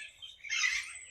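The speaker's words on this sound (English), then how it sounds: "here you can see in the early morning lot of bird chirping" Birds chirping outdoors in the early morning, a faint, brief burst of high twittering calls heard from a distance with no voices.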